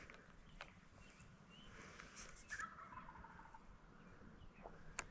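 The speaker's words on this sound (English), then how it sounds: "Turkey gobbling again." A wild turkey gobbles in the distance beside a reservoir bank, its calls faint and scattered against a soft outdoor background with a few light clicks and rustles.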